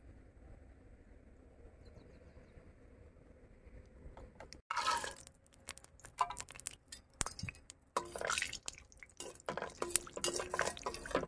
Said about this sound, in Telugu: దానికోసమని నేను బాండీ పెట్టుకొని ఆయిల్ వేసుకుంటున్నా